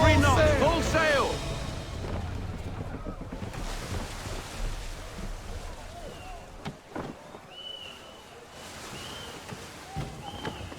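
A sailing ship under full sail crosses open water in Assassin's Creed III, steady wash of waves and wind rushing past the hull, loud and continuous, with a voice briefly calling out early on.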